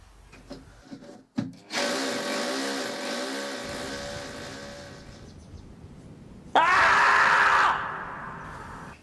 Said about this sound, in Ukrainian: Як ідеально змонтувати силіконову приманку за допомогою сверла на двійник.